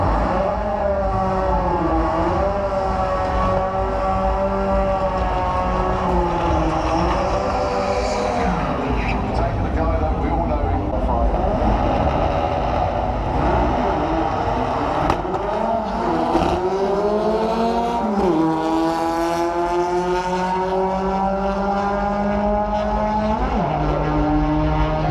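A 4-cylinder doorslammer drag race car makes a run down the strip at Santa Pod, heard from the grandstand as a loud, sustained engine wail with several sharp pitch drops at gear changes.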